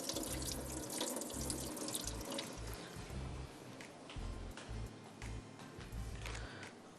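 Tap water running steadily into a sink while rice is rinsed for a vegetable biryani, a continuous splashing hiss with soft sloshes and knocks from the rice and vessel.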